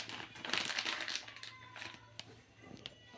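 A plastic packet of oil is handled and crinkled up close while sweets are being made. The crackling is loudest in the first two seconds, then drops to scattered faint crinkles over a low steady hum.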